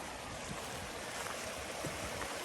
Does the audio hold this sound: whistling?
no